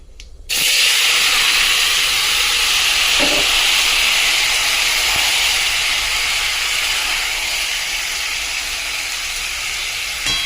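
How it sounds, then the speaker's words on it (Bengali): Loud steady sizzle as tomatoes go into hot oil seasoned with five-spice, beginning with a sharp burst of hissing and holding strong to the end with no voice over it. "তেলটা গরম হয়ে গেছে, দেবো একটু 5 ফোড়ন। ফোড়নটা একটুখানি হয়ে গেল, টমেটোটা ঢেলে দেবো।"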